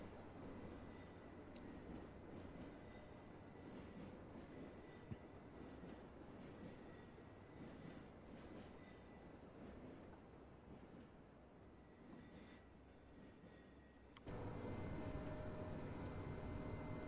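A train passes on the Bernina Line in the Train Simulator Classic video game, giving a continuous rumble of wheels and cars with high squealing tones over steady rail noise. The sound grows louder near the end.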